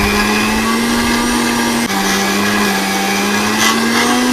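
A mixer grinder whirs loudly and steadily as it grinds a paste with curry leaves until smooth, its motor pitch dipping briefly midway before settling back to a constant close drone.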